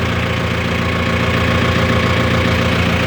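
A Mahindra Novo 605 tractor engine idles steadily and close by, a continuous loud diesel rumble with a faint knocking pulse and no gaps or talk.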